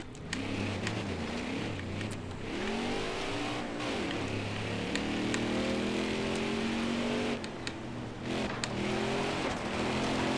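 A NASCAR stock car roars through a practice lap in NASCAR Heat 4, its engine climbing and dropping through gear shifts with rising revving sweeps, loud and continuous with no talk.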